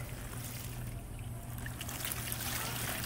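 Water is dumped out of a container to water a garden beside a homemade turtle pond, giving a steady, fairly quiet trickling and splashing that continues evenly throughout.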